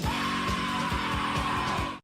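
A voice imitates the scream from Sonic Youth's "Death Valley '69" with one long, sustained high yell held for about two seconds over a steady, thumping drum beat.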